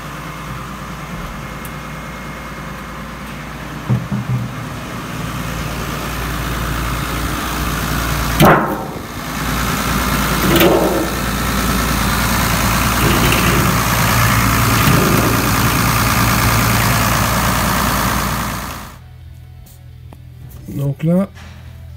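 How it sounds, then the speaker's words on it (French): New Holland tractor engine idling while warming up before an oil change, a steady low rumble running continuously for most of the clip, with a few knocks and clanks on top, then cutting off near the end. "Donc là, pendant que le tracteur chauffe, je vais aller mettre en place mon bac pour récupérer l'huile."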